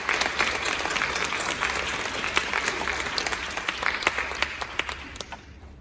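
Sustained audience applause at a project forum, a dense steady wash of many hands clapping that tapers off near the end.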